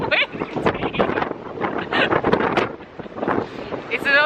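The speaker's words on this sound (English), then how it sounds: "There is not a cloud in the sky, but by gosh, is it windy?" Strong wind gusting across the deck of the P&O Iona cruise ship at sea, buffeting the microphone in loud uneven bursts, with a voice speaking underneath.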